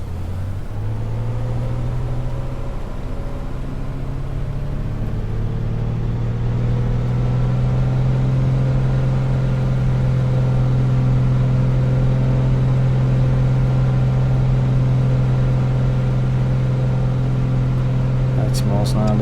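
An A2A Comanche aircraft engine in a flight simulator drones loudly and steadily through the takeoff roll, its pitch rising gradually as power builds, with a brief click near the end.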